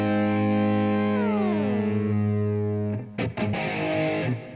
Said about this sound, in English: what you're hearing is kind of a phasey chorus effect right now